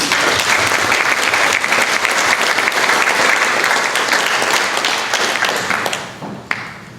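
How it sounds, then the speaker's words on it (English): An audience at a goal-setting event bursts into loud, dense applause that holds steady for several seconds, then thins out and fades near the end. "Big round of applause."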